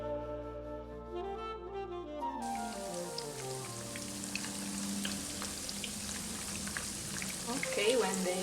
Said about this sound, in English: Let's fry the meatballs.